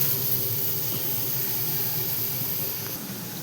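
Tomatoes roasting directly over a gas stove flame, giving a steady broadband hiss and roar with faint crackles, continuous and fairly close, no talking.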